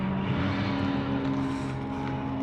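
A Nissan GT-R drives in with a steady engine drone and a low tonal hum, fairly close and continuous, growing slightly busier toward the end with no talking.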